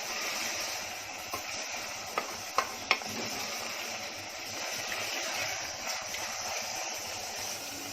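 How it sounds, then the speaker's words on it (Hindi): Moong dal roasts in a pan with a steady low sizzle and the scrape and rattle of stirring, a few sharp ticks of a spoon against the pan, close and continuous without talk. "दो मिनट मूंग को भून ली।"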